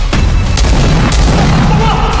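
Gunfire from a scene in the Filipino film Sugapa, with sharp loud pops over a dense rumbling background, several reports spaced across a short stretch.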